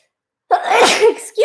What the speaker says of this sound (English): I'm going to sneeze in a minute.